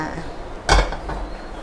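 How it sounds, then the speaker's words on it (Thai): A single metallic clunk of a wok being set down on a hard surface, sharp and close against a steady low background hum. "เอากระทะมา"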